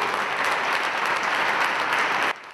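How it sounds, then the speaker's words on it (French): Applause fills a hall during a funeral tribute by men and women of the cultural world at the Félix Houphouët-Boigny hall, a steady dense clatter of many hands that cuts off abruptly near the end. "Applaudissements des hommes et femmes du monde de la culture dans cette salle Félix Houphouët-Boigny de l'Ivo Sepp"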